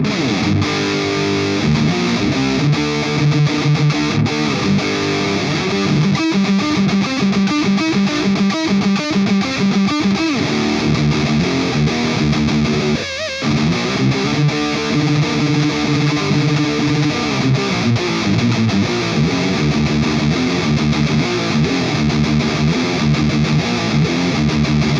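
Distorted electric guitar through a Marshall amplifier plays a loud, continuous thrash and death metal style rhythm with sustained chords and palm-muted chugs, a brief drop near the middle, no voices.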